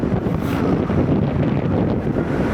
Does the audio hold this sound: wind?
yes